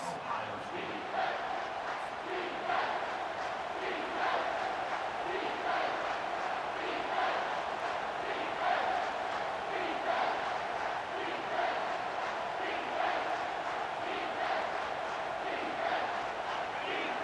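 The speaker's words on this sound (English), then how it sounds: "This crowd knows they have to bring it in big moments, and one of those has arrived." A stadium crowd in EA Sports College Football 25 roars and chants in a steady rhythmic swell, a dense continuous wall of voices without clear individual words.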